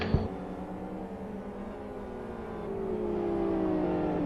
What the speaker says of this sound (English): That XRR sounds like it might be a bit engine dead.